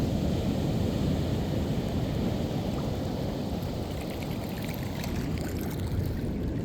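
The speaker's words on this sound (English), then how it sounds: "Sound of the creek, sound of the ocean." Steady broadband rush of creek water and ocean surf at Baker Beach, a constant close wash of noise with no voices.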